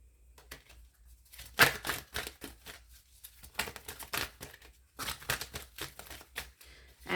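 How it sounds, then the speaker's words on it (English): Tarot cards being shuffled by hand in irregular bursts of soft riffling and papery crinkling, close and quiet, separated by brief pauses. "let me keep shuffling"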